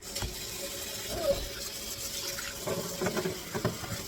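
Hot water runs steadily from a tap, a continuous splashing rush with some clinking in the background, while a cast iron pan is cleaned with chainmail.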